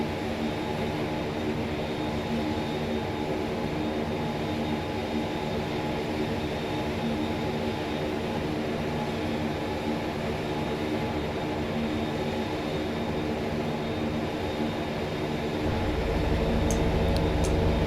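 Dornier Do 328 turboprop engines in the X-Plane 11 flight simulator on approach, a steady droning roar with dense low hum throughout, deepening and swelling slightly near the end; no talking.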